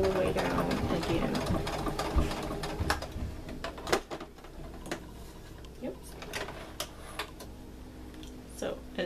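A sewing machine runs a straight stitch down a seam of leggings, a rapid mechanical whirr that fades into scattered clicks and thumps, with a person speaking over it.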